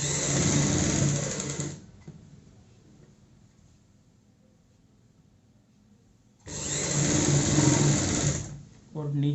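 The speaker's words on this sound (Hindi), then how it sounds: "इसी सिलाई के ऊपर हमें सिलाई लगानी है।" Sewing machine stitching a frill onto a child's frock, running loud and steady for a couple of seconds, then stopping, then running again in a second steady burst close by.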